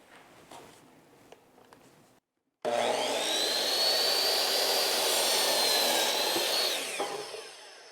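A compound miter saw with a thin kerf blade cuts wood trim for casework: faint handling noises, a brief silence, then a loud sustained whining cut lasting several seconds before the motor winds down.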